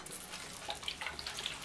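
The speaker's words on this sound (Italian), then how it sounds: "è consigliabile dare una minima spruzzata con dell'acqua" Water is sprayed lightly onto dry leaves and dry rotten wood in a Pachnoda sinuata beetle breeding tank, giving a faint, soft hiss with scattered small pattering spritzes over about two seconds, close by and alone.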